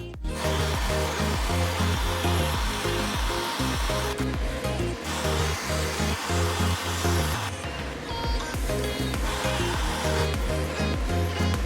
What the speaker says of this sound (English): I'm going to carefully TIG weld this. I've got 316 rods and red electrode in my torch.